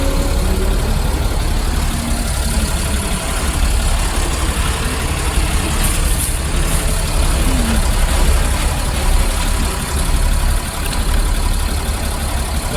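An HRTC bus on the Leh-Manali road sits idling after its engine overheated, a loud, steady low rumble filling the whole stretch with faint background voices.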